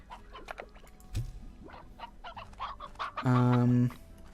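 Hens cluck in the farming game Slime Rancher amid soft game effects, with a loud, steady electronic tone swelling near the end.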